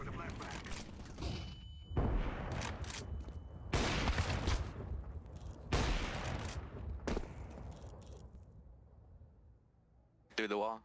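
Heavy gunfire in Counter-Strike 2 on the Mirage map cracks out in several loud, separate bursts spaced a couple of seconds apart, each echoing away, with a player talking between them.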